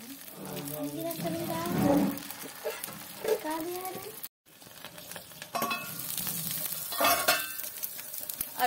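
Moong dal batter is spooned into an oiled appe pan and starts to sizzle, a steady frying hiss with spoon and pan clinks, under a voice talking.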